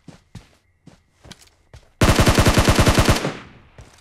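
Automatic gunfire in the mobile battle royale game PUBG Mobile: a few scattered single footstep-like thuds, then a loud, rapid burst of about a dozen evenly spaced shots lasting over a second, ending in a ringing tail.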